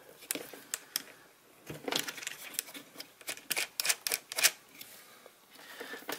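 A nut is tightened onto a terminal of a DIY ammo-can power pack, making a close, irregular run of small metallic clicks, ticks and rattles. No voice is heard.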